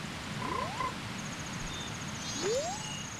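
A frog croaks in the video game Zelda: Majora's Mask, giving rising, chirpy croaks twice over a steady hum of game ambience, with a faint high tone in the background and no talk.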